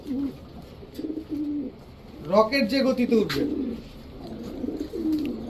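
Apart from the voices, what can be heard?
army breed pigeons cooing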